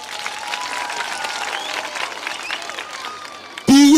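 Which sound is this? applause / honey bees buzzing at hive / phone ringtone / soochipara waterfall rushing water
applause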